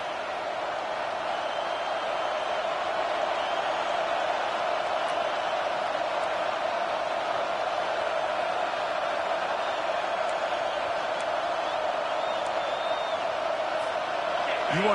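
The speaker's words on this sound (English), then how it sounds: "with this place rocking, the crowd forces a false start" Steady, loud stadium crowd roar from a Madden 25 football game, a constant wash of noise that runs the whole time with faint whistles and shouts on top, as fans rock the place and force a false start.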